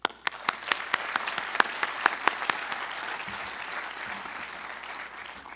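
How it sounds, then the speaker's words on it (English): A room of guests at a talent pipeline signing day gives a round of applause: sharp individual claps at first, swelling into steady clapping and then thinning out. "Round of applause, please"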